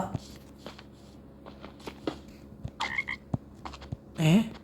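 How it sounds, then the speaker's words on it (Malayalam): A synthetic Minecraft frog croak sounds twice amid soft clicks and short game-like effects, with a louder croak near the end. "എന്തൊരു സൗണ്ട്? തവള"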